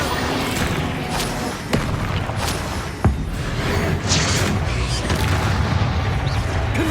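Hogwarts Legacy combat spells such as Confringo, Expelliarmus and Glacius, a dense stream of booming impacts, whooshes and thuds over a continuous battle rumble, one hit after another.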